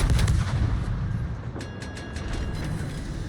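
Naval gunfire from the battleship California in a warship video game, heavy booming shots opening the clip, followed by a cluster of sharp rapid cracks and a lingering rumble.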